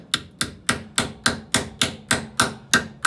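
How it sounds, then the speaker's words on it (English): Hammer taps a fluted straight-cut screw extractor seated in a broken stud, about eleven sharp metallic strikes in an even, quick rhythm, close and loud with no talking. "you kind of always have to keep tapping it just to keep it tight in there"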